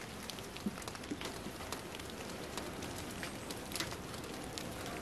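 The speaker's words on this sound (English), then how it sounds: "when it's raining like this" Steady rain patters on a surface, a dense, even hiss with scattered drips standing out, no voices.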